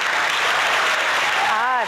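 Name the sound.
audience clapping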